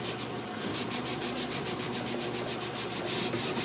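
Rhythmic back-and-forth sanding of painted wood for a two-color DIY paint distress finish, with steady, close, even rasping strokes of about five per second and no talking.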